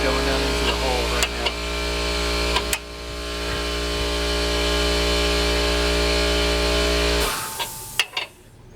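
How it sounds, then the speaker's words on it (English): An air compressor runs loud and steady during ball joint work on a 2005 Dodge Ram 1500 pickup, a constant droning hum with a few sharp clanks over it before it cuts off near the end. "You couldn't hear it with the air compressor on"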